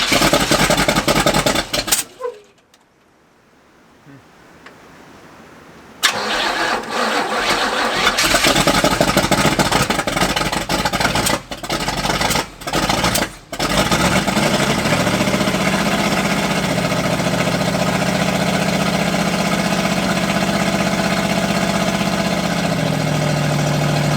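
A 1985 Oldsmobile Cutlass, being revived after sitting for years, cranks and fires after a short silence, stumbles through a few loud catches, then settles into a steady, loud, close idle.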